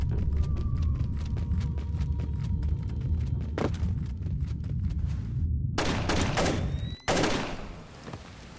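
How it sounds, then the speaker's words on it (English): Sustained rapid gunfire from a firefight in Splinter Cell, dense bursts rattling continuously with a few sharper loud cracks near the end, no talk. "There's people shooting down here for some reason."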